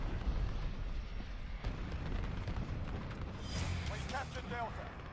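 Cruise missile strike in Call of Duty: Modern Warfare Ground War, a dense rumbling blast with continuous battlefield noise, debris and crackling bursts over several seconds, loud and sustained rather than a single clean boom.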